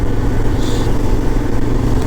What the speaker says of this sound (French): c'est la circulation.